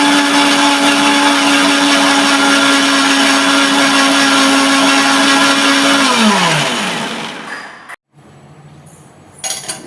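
A kitchen mixer grinder runs loudly and steadily while grinding jackfruit payasam, its whine holding constant before winding down and stopping, followed by faint clinks.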